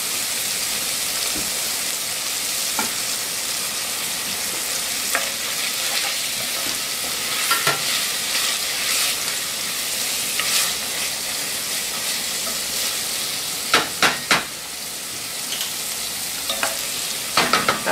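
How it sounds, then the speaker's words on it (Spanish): Salami and lentils fry in a pan with a steady sizzle that runs the whole time, broken by a few sharp clicks and scrapes of stirring, near and fairly loud, with no voices. "Esperamos que esto se fríe un ratito"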